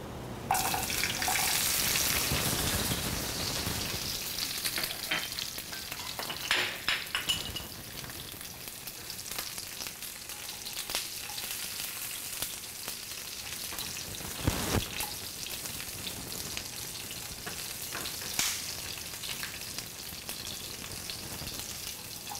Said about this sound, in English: once you let the oil heat up, I'm gonna toss in the garlic